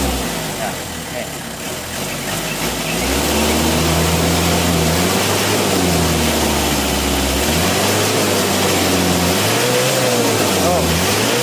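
A Mitsubishi L300 diesel engine, hard to start when hot, prone to stalling on climbs and smoking, idles and then revs in repeated rising and falling surges, loud and close, with some talk over it.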